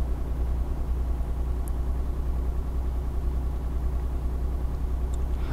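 An Isuzu pickup truck mod in Euro Truck Simulator 2 runs with a steady, low engine rumble that holds an even idle-like drone throughout, close and unbroken, with no voices.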